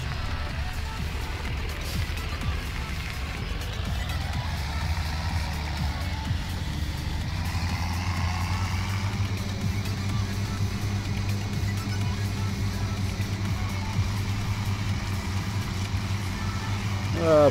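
Farm tractor engine in Farming Simulator 17 droning steadily at a low, even pitch while driving, with someone talking over it throughout.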